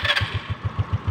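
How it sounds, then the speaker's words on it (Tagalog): A motorcycle with a push-button electric starter cranks over, a rapid, even series of low chugging pulses, close by, with no one talking. "So pakinggan nyo kung aandar yung makina"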